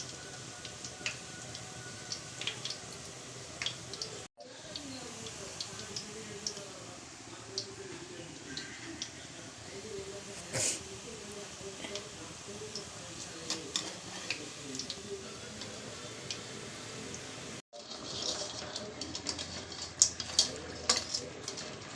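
Small hand-dropped chekodi dough snacks frying in hot oil give a steady, close crackling sizzle that runs throughout, with a faint voice and some background tones underneath.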